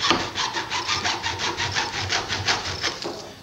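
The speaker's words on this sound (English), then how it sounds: "Mark it off and cut the area with the hacksaw." A hacksaw cuts through a pipe being shaped into a boffer sword, about fourteen even back-and-forth strokes with a rasping, scraping texture, close and steady, with no voices.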